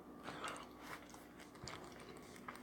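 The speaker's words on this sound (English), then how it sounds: "I'm eating on a cranberry crunch" Close, quiet chewing and biting on a cranberry crunch, soft crunchy bites repeating over a couple of seconds with no talking.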